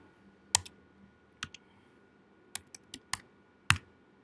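Computer keyboard typing during a coding session: about eight sharp, separate key clicks arrive in small irregular clusters over a quiet room hum, close and fairly crisp.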